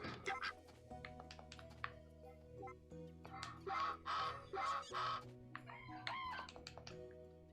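Farm ducks in Story of Seasons: A Wonderful Life give a series of nasal, honking quacks in short bursts over soft, sustained background music, some calls louder and clustered in the middle.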